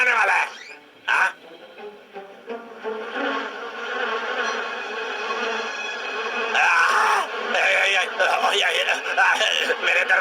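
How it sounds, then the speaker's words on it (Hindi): Bees buzz steadily around a large beehive by a doorway, a dense continuous drone with louder surges and clattering near the end. "मेरे दरवाजे के सामने इतना बड़ा मधुमक्खी का छत्ता किसने रख दिया?"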